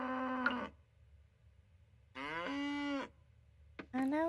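Cow in the farming game Coral Island letting out several drawn-out moos with pauses between them, close and clear against a quiet background.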